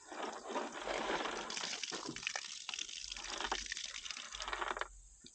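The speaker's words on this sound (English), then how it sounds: "there's just a little bit of water coming out" Water trickling and splashing out of a shot-through water jug, a steady, close liquid gush with dripping that runs throughout and tapers off at the end.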